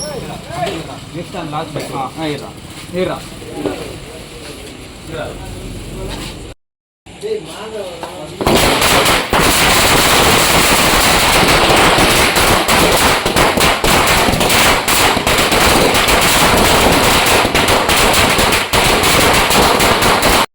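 Background voices and clatter, then a long, dense string of Diwali firecrackers crackles and pops continuously, loud and close, for many seconds.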